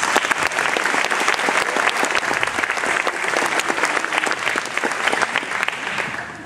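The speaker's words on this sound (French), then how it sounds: "on peut également applaudir bien fort la mairie qui nous accueille et toute la municipalité" An audience applauds the town hall at a philharmonic concert, producing sustained, full clapping that stays dense and even for several seconds before easing slightly at the end.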